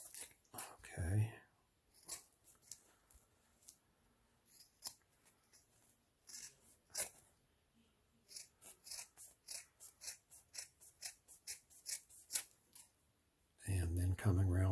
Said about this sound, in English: take your scissors and cut in at an angle and cut that bit out of there